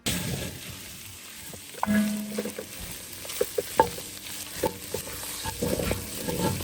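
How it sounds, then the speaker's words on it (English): Mushrooms sautéing in a pan for a Hungarian soup, with a continuous gentle sizzle under repeated utensil scrapes and taps as they are stirred, close up and without talk. "you can cook these mushrooms down even further than this if you would like"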